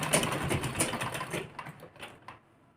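A sewing machine stitches a folded blouse hem for a lehenga in a quick whirring, clattering run that slows and stops in a few spaced ticks, close and moderately loud.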